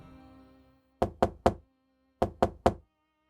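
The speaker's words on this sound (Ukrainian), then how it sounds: "Тихий, але нав'язливий стукіт у двері повернув його свідомість." Knocking on a door comes as two quick sets of three firm, close raps, separated by a short pause, and each knock decays quickly into silence.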